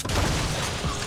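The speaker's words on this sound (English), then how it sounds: "Somebody just throw a grenade" A grenade explodes in the Fortnite battle royale game, a dense, booming burst with low rumble that spreads across the full second without clear separate blasts.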